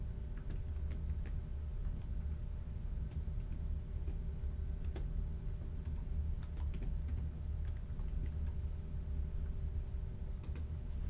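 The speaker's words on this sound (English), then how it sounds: "I'll start by typing in her email address." Continuous clicking of keys on a computer keyboard while an email address is entered for a sign-in, steady and close over a low background hum.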